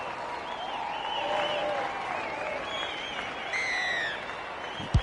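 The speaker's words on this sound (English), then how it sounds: "especially when you've got a crowd like this urging you on" At a rugby league match, a large stadium crowd keeps up sustained cheering and applause at moderate distance, with a commentator's voice running over the top.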